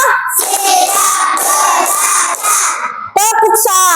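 Children clap their hands together in a classroom clapping game, the claps blending into a loud, continuous crowd clatter with children shouting throughout, then a brief dip before a burst of young voices.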